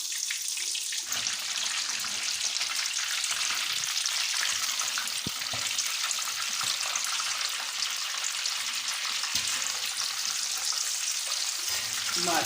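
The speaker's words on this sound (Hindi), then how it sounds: "ताकि ये अच्छे तरीके से चारों साइडों से फ्राई हो जाए" A whole chicken for murgh musallam deep-frying in a large pot of oil, giving a steady, dense sizzle and crackle that runs throughout with a few faint clinks of stirring.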